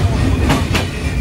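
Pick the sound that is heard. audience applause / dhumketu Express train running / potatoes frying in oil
dhumketu Express train running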